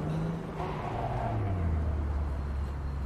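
Cars in the video game Cyberpunk 2077 driving past in a steady stream, a continuous near engine rumble and road roar with a low tone dropping in pitch as a vehicle goes by.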